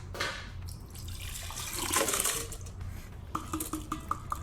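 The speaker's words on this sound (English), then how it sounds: "I have to fill it up with water up until it is about 4 cups." Water pours steadily into a blender holding horchata ingredients and whole cinnamon sticks, a close, fairly quiet gush and splash. Light clinks and taps follow toward the end, and no one speaks.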